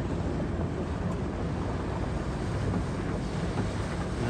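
Steady broadband rush of a 26-foot Chaparral SSI sport boat with a MerCruiser 350 MPI engine underway on open water, motor drone blended with strong wind buffeting the microphone, continuous and with no voices.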